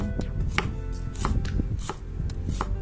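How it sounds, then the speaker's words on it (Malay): A knife slices shallots finely on a cutting board for a thick beef curry, making a steady run of quick, close, crisp chops over a low background hum, with no voices. "lepas tu bolehlah mula hiris bawang merah atau dimayang halus"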